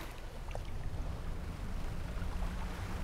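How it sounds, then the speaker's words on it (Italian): A fishing boat's engine in the video game Dredge runs as a steady low rumble with a washing, watery hiss, even and continuous, with no voices. "Chissà se questo motore fila un po' di più"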